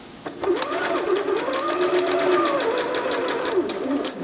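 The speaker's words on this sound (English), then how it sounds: "Sew right over the top of that velcro." Sewing machine stitching across velcro on a pillow, a close, steady rapid mechanical whirr with a rhythmic needle clatter running for several seconds, briefly slowing at the end.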